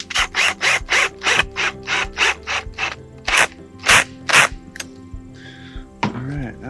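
A drill bit is fitted into a drill chuck in a workshop, a run of rapid ratcheting clicks and rasping turns in quick rhythmic bursts, close and loud, then a short pause and a brief voice speaking.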